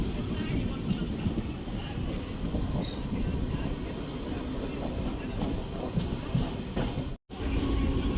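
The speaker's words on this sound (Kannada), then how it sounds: "ನಮ್ಮ ಟ್ರೈನ್ ಈಗ ಬೈಯಪ್ಪನಹಳ್ಳಿ ರೈಲ್ವೆ ಸ್ಟೇಷನ್ ಎಂಟ್ರಿ ಆಗಿದೆ" A MEMU passenger train rolls into Baiyappanahalli railway station, a steady close rumble of the carriage heard from on board, broken by a momentary dropout near the end.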